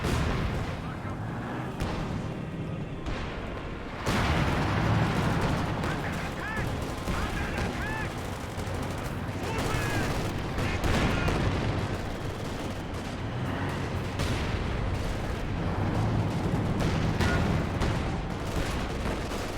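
Butterfly bombs explode amid battlefield gunfire in the strategy game Company of Heroes 2, a dense run of booms and crackling shots, with a voice talking over much of it.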